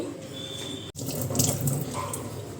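Tap water runs steadily into a sink while kitchen rags used for wiping the gas stove are rinsed, a continuous near wash of splashing flow with one brief break partway through.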